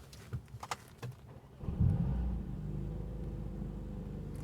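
A 2020 Mercedes-AMG CLA45 S Shooting Brake engine catches and settles into a loud, steady rumbling drone at about 1900 RPM after a few brief clicks, holding constant without pause.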